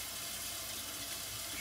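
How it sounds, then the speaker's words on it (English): Tap water runs steadily from a sink faucet into a glass bottle, a continuous quiet hiss and splash with no talk. "put your finger over the hole, put some water in the bottle"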